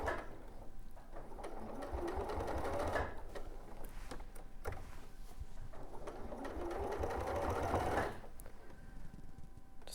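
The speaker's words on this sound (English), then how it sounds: "So I'll sew a few stitches and then just lift and reposition" A sewing machine stitching fabric for a Gracie rabbit toy runs in two steady, close bursts of about three seconds each, with a short pause between them where the fabric is lifted and repositioned.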